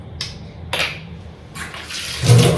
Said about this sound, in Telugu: ఫస్ట్ అయితే ప్రతిదీ కూడా వాటర్ వాష్ చేసి